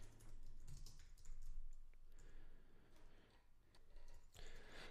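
Faint typing on a computer keyboard while writing Android Java code: irregular bursts of soft key clicks with short pauses between them, and no speech.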